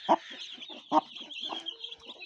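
Chickens cluck in a sequence of short, fairly close calls spaced irregularly, with a faint tonal note near the end and no talk.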